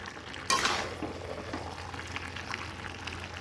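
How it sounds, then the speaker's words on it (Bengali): A spatula stirs and scrapes through dried fish frying in a pan that has been fried very crisp, starting with a sharp clatter and settling into a steady low sizzle. "এখন এটা ভালো করে নাড়াবো"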